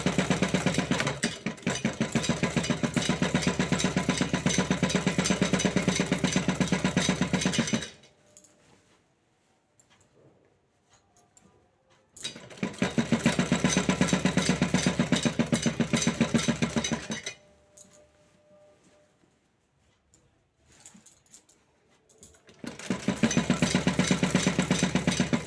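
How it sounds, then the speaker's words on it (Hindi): Sewing machine stitching blouse fabric, running in three long bursts of dense, rapid mechanical clatter with quiet pauses between them. "इस चीज़ को हमें हाथ से प्रेस करते हुए, कपड़े को देखते हुए ही सिलाई लगाएं"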